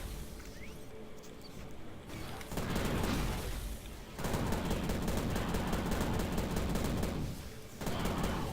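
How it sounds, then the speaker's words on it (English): Gunfire rattles through a Prey firefight in long, dense bursts that start and stop abruptly, loud and close, with short lulls between volleys. "Someone is shooting at me."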